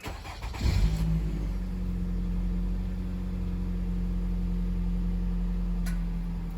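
A Nissan Rogue engine cranks over and catches with a short burst, then settles into a steady, even idle that hums on for several seconds.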